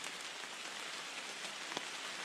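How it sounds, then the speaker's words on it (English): Rain falls steadily on a forest trail during a hike in the Adirondacks, a dense soft patter of drops on leaves and ground, even and continuous with no voices. "And let's enjoy a walk in the rain."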